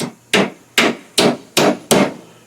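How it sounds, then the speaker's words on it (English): Six evenly spaced, sharp hammer blows drive nails into a wooden medium-depth beehive honey super frame, each strike loud and close with a short ringing decay. "drive a nail or two, especially when they come pre-drilled"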